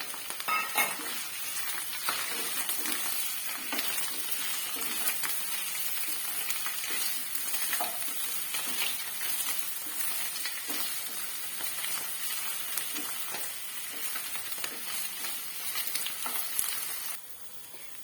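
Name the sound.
mushrooms frying in a pan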